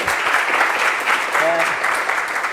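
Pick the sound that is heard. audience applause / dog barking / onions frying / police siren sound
audience applause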